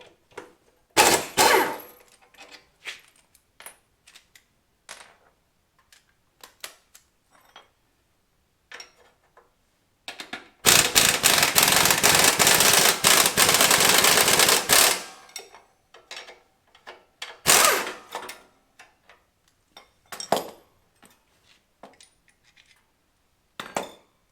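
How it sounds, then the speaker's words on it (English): Pneumatic air tools on a Harley motorcycle removing nuts with a 3/4 inch socket: loud bursts of rapid impact hammering, one sustained run of about four seconds, among scattered clinks and ratchet clicks in a workshop. "I have the luxury of air tools."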